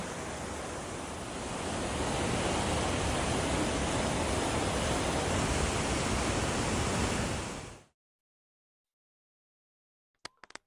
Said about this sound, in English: You can really hear the power of the water there.